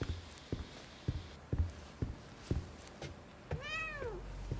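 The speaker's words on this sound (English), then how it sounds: "She got scared by her cat." Footsteps tap steadily at an even pace through a quiet room in the horror adventure game The Medium, then a cat gives a single clear, drawn-out meow close by.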